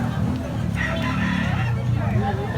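A rooster crows loudly nearby, a drawn-out call over a low murmur of background voices and farmyard noise.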